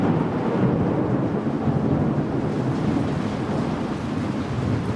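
A thunderstorm outside a woodworking shop brings a long low rumble of thunder over steady heavy rain, loud and continuous, with some wind buffeting on the microphone.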